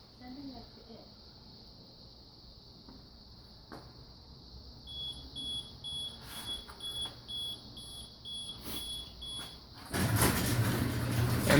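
A Gogogate 2 wifi garage door opener closes a garage door on a voice command, sounding a steady high warning beep with a few clicks, then a louder rumbling burst of the door mechanism near the end.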